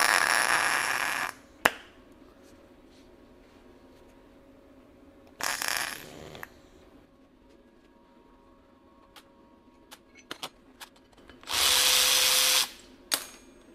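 A power drill whines in several bursts while a broken exhaust manifold stud is drilled out with an EZ Stud Out kit, the bursts separated by quiet pauses filled with small tool clicks and metallic taps.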